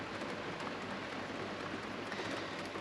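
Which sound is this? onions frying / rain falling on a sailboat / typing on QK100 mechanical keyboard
rain falling on a sailboat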